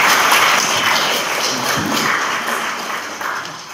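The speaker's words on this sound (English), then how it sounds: "Give him a round of applause." A church congregation at an all-age worship service claps together in a loud, sustained burst of applause that gradually tapers off over a few seconds.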